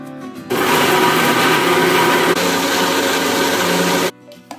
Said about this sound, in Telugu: శనగ పలుకులు గుప్పుడు వేసి మిక్సీ కొట్టాల.